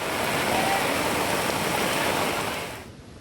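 Loud, continuous roar of flood water rushing down from Mount Girnar through Bhavnath during heavy rain, broad and steady, fading away at the very end.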